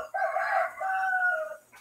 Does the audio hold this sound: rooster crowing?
yes